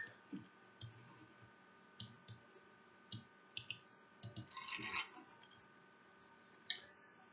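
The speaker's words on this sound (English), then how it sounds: "Shuffle the encounter discard pile into the encounter deck." Cards of a game's encounter deck being handled and shuffled at close range: scattered soft clicks and taps, a short burst of riffling in the middle, then one sharp snap, quiet and with no talking.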